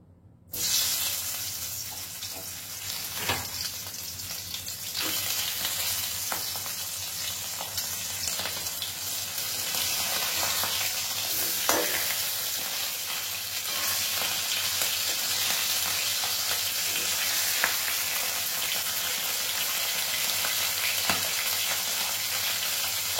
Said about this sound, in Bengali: এখন আমি ম্যারিনেট করা মাছটা ভেজে নেব।